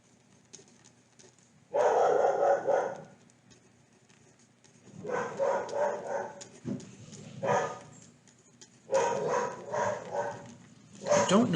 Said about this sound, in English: I don't know if you can hear our dog going crazy in the background